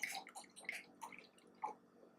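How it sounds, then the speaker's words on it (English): Apple cider poured into a glass for a festive holiday cocktail, giving close, quiet gurgling and splashing with a few irregular bursts over about two seconds. "pour your cider"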